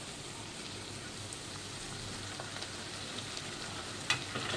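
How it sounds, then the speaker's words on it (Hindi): Finely chopped potatoes going into a pan of lightly frying onions, with a constant soft sizzle, faint stirring scrapes and a small clatter toward the end. "अब हम इसमें बारीक कटा हुआ आलू डाल देंगे"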